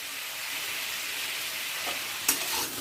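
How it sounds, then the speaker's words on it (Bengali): Cauliflower and potatoes frying together in oil for aloo fulkopi posto, giving a steady, close sizzle with a brief stir or clatter near the end. "ফুলকপিটাও আলুর সাথে একবার ভেজে নেব"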